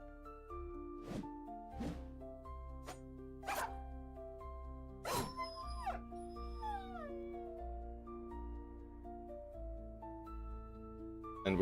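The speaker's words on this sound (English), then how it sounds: "Get rid of that puppy right now" A war dog in the video game Battle Brothers gives a few short yelps and a whining howl over sustained game music, amid clattering combat effects.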